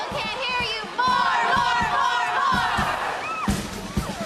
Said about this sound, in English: That was an interesting cheer.